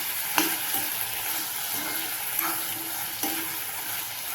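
Brinjal, potato and pavta beans are sautéed in hot oil with masala, giving a continuous close sizzle with a few soft spoon-stirring scrapes and clinks.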